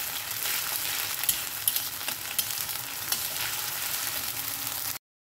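Onion frying with garlic and dried red chilli paste in a pan for masoor dal, a steady dense sizzle with occasional stirring clicks, close and continuous until it cuts off, no talking.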